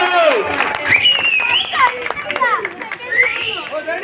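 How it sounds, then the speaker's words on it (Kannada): Children clap their hands in a lively group, with quick irregular claps layered under excited high-pitched chatter and calls that run through the whole stretch. "ಚಪ್ಪಾಳೆ ಹೊಡಿಲಿ, ಚಪ್ಪಾಳೆ"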